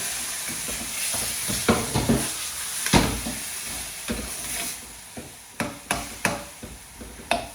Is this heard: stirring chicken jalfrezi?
yes